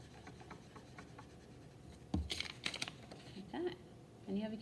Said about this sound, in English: we're going to practice coloring in boundaries, coloring them in.